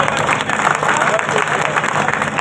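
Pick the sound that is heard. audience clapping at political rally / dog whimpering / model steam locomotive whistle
audience clapping at political rally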